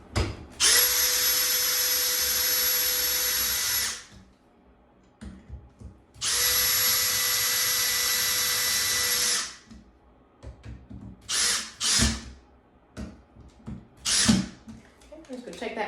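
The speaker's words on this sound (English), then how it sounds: "I don't like to overly tighten with that power drill." A power drill works on a Moen shower faucet cartridge, with two long steady whirring runs of several seconds each, then a few short bursts and clatters. Nobody speaks during it.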